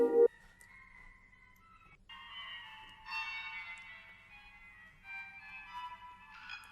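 Sustained granular synthesizer tones shifting in pitch every second or so, bright synthetic textures stepping between levels, with a short low burst at the start.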